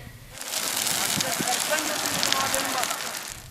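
A brush fire that spread into forest roars and crackles continuously, a dense close rushing sound with scattered pops.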